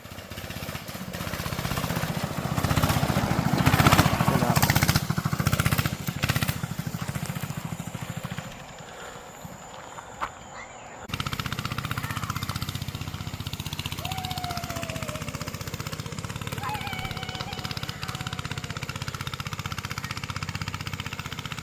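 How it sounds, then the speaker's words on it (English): A child's go-kart engine drives off after a gear change, a loud buzzing mid-pitched motor roar close by that drops away halfway, then returns as a steadier, more distant drone. "we're gonna test out the new gear change on little girl's go-kart"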